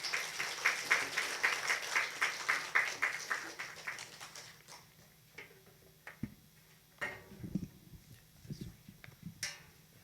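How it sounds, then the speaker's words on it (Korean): A church congregation claps in welcome as a pastor comes forward to preach, the applause crisp and sustained at first, then thinning into scattered claps and room noise. "이 시간 인용태 목사님 나오셔서 하나님의 말씀을 전해 주실 때 큰 박수로 환영하도록 하겠습니다."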